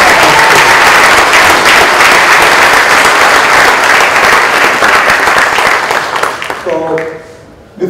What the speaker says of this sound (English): Let's take a big round of applause.